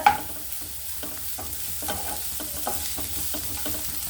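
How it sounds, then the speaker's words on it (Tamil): Onions sautéing in a pan while being stirred, a soft sizzle beneath a regular run of scraping stirring strokes, heard close and alone. "லைட்டாக அந்த கோல்டன் மாதிரி ஆகிற அளவுக்கு நல்லா வதக்கி விடுங்க"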